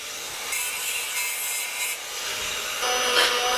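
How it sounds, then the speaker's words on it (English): An electric die grinder fitted with a wire brush scrubs metal edges in a fabrication shop, giving a loud, harsh, continuous abrasive hiss with slight surges in intensity and no speech. "This die grinder, electrical die grinder, does with a wire brush."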